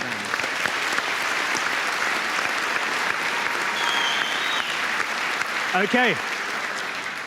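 A theatre audience at a televised panel show in Adelaide's Thebarton Theatre applauds in a dense, steady roar that holds for several seconds, with a brief voice and a faint whistle near the end.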